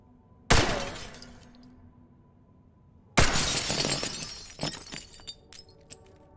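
Breakable glass panes shattering in the tactical shooter Ready Or Not, in its reworked form. Two loud, sharp crashes land about three seconds apart, each trailing off into tinkling shards, and the second break scatters longer with scattered clinks.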